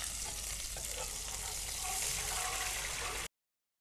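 Spices spluttering and crackling in hot oil while cooking Andhra pesarattu, a dense, loud, continuous sizzle close by that cuts off abruptly near the end.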